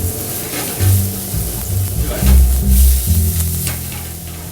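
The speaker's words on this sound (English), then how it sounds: "Saute that lightly." Onion, celery, carrot and chopped garlic sauté in a pan, sizzling close by with bursts of stirring and scraping over a steady hiss.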